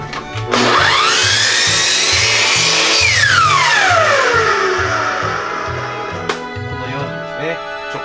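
A laser-guided sliding circular saw spins up with a rising whine, bites into wood for several seconds, then winds down as the blade slows, loud and close with a steady hum beneath.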